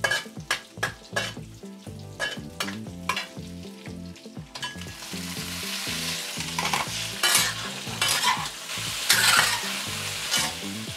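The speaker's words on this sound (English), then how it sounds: "Just wanna give it a nice saute." Lobster pieces sautéed with garlic in a hot wok, a loud close sizzle broken by repeated scraping stirs and tosses, no talking.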